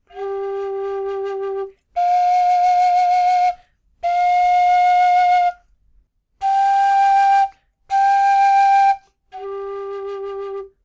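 A low G tin whistle made by Dave Shaw plays six sustained notes with short gaps between them, each note clear and steady with a breathy edge. The playing is close and moderately loud, with no talking.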